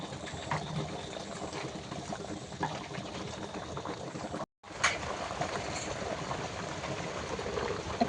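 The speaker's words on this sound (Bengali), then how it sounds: "এবারে ভালো করে এটা ফুটাবো।" Hilsa fish curry (ilish tel jhal) bubbling in a pan, a steady close simmering hiss with faint crackle that runs throughout, broken by a brief silent gap midway.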